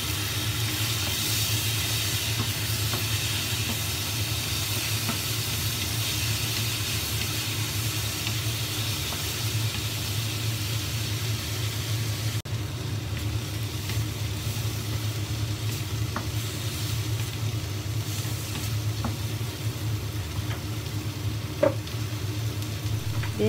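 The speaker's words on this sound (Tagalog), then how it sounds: "Iprito ng konti ang kamatis." Chopped tomatoes and onion fry in a pan for a Filipino pork sinigang, giving a steady, close sizzling hiss that runs throughout with no talking.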